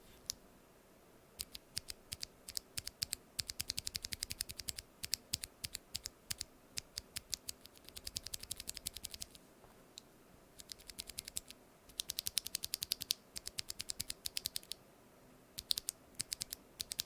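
Rapid, uneven bursts of clicky keystrokes on NovelKeys BOX Cream mechanical switches, typed in quick runs with short pauses between them, close and fairly quiet with no voices.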